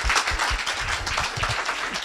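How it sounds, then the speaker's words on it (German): Audience applause at a NetzPAT talk on Creative Commons licensing, a short steady patter of many hands clapping in a room, moderately loud and without talk. "Vielleicht noch einen tollen Applaus"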